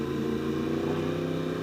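A side-by-side UTV with a 600cc or 1000cc engine runs quietly, giving a steady low, smooth hum with no revving or change in pitch.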